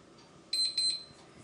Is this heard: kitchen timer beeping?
yes